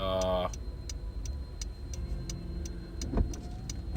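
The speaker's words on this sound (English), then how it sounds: "we are stuck in traffic now, and things are not looking pretty" Road traffic sounds from inside a car stuck in a jam: a steady low engine and road rumble with a regular faint ticking, like an indicator, running throughout.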